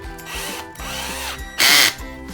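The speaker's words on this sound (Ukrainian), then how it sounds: "дриль або шуруповерт і просверлюємо наскрізь оцей наш штіфт і корпус." Electric drill with a thin bit boring through a steel pin and the door-lock housing of a washing machine, a close, loud whine in several bursts with a sharp high-pitched peak near the end.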